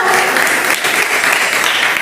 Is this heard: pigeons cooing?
no